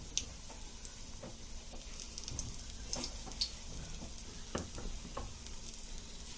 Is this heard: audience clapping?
no